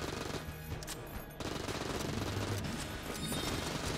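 Automatic AK rifle fire from Enter the Gungeon plays in dense, rapid bursts throughout, loud and continuous, with a brief gap near the middle before the shooting resumes amid game effects.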